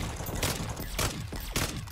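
Gunfire in the Call of Duty zombie confrontation mode, with repeated bursts of shots that come loud and close, broken into three or four dense volleys across a continuous battle din.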